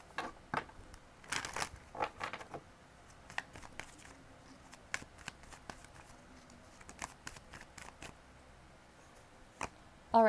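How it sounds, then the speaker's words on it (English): Tarot cards are shuffled by hand at close range, giving a soft, crackling patter of sliding and riffling cards with irregular louder flicks, faint and continuous throughout. "One more shuffle."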